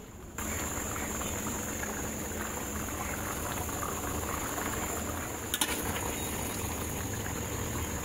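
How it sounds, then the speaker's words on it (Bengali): A homestyle curry of small shrimp with potato and pointed gourd bubbles steadily in a pot, giving a close, continuous boiling patter with no talk. One brief clink sounds partway through. "এইবার আলু পটলের সাথে কুচো চিংড়িটা বেশ কিছুক্ষণ ফুটিয়ে নিব"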